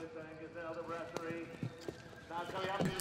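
Horse hooves thud irregularly at the Badminton eventing competition, a few sharp strikes standing out over a commentator's voice and crowd ambience.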